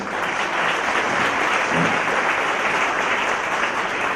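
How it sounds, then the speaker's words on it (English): Dense, loud audience applause for organizers at an award event, continuous roaring clapping from a large crowd with no breaks. "So a big round of applause for all the organizers."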